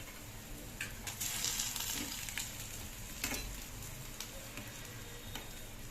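Sweet jaggery-coated lentil fritters, bellam garelu, frying in hot oil, with a steady close sizzle, soft bubbling and a few brief clinks and stirring sounds.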